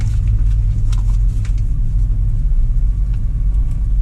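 A container truck rumbles along at a steady pace, its engine a heavy, constant low drone mixed with road noise from inside the cab, loud and unbroken, with faint rattles on top and no talking.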